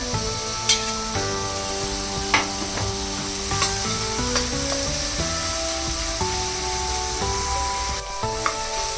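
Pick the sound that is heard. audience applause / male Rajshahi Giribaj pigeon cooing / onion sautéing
onion sautéing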